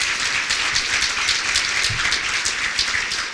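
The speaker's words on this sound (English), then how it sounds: "a round of applause for the Board of Directors" Dense, loud audience applause for the Board of Directors at a village State of the Village meeting, a continuous rain-like clatter of many hands lasting throughout.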